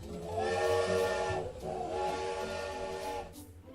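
Steam train whistle on a Thomas the Tank Engine ride, two long, loud, piercing blasts separated by a short gap, with a hiss of steam under them and no one speaking.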